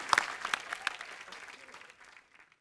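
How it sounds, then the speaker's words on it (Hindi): A studio audience on a Hindi comedy show claps in a lively burst that thins out over a couple of seconds, with a few cheers mixed in. "जोरदार ताली हो जाए"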